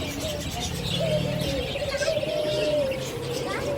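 Pigeons coo softly and repeatedly nearby at a pet bird and animal market, mixed with a few light chirps, while faint voices murmur in the background.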